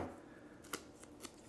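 Scissors snipping through mat board, two short crisp cuts close up and faint, with quiet handling sounds between them.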